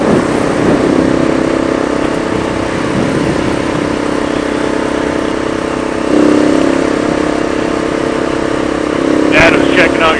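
Motorcycle engine and exhaust on a ride through the Smoky Mountains, droning steadily and loud throughout with mild swells in revs, with a sharp burst of noise near the end.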